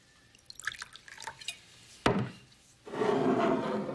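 A drink is poured near the end: liquid streams steadily into a glass for about a second, after a few light clinks and a sharp knock on wood.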